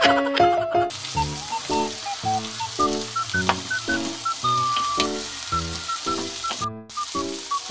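Tomatoes frying for adobong sitaw give a steady close sizzle in the pan, set under a melodic, rhythmic music track with repeated tones and beats.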